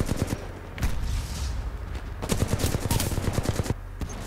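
Rapid automatic gunfire from a Titanfall 2 pilots-versus-pilots match, bursts of shots broken by a brief lull and then a longer dense volley, loud and close with no voices.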